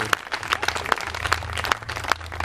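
An audience claps at a live music event in Mogliano Veneto, a small, fairly faint patter of hand claps with a few louder sharp slaps standing out over a low background hum.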